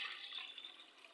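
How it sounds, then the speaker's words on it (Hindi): A glassful of water poured into washed, unsoaked chana dal in a cooking pot, a brief, steady splashing rush lasting about a second. "1 गिलास के बराबर पानी ऐड कर दिया है।"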